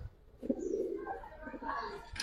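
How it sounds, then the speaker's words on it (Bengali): A big, round-shaped pair of Chita Patti pigeons coos softly and briefly, fairly faint against a quiet room background with no talking. "চিতা পাত্তি কবুতর"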